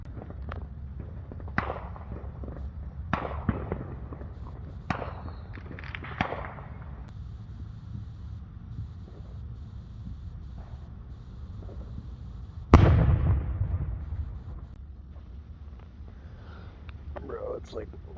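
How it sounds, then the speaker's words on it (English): Scattered sharp pops and bangs of fireworks, one louder blast midway, with a low background rumble and faint voices in between. "people are definitely already setting off fireworks"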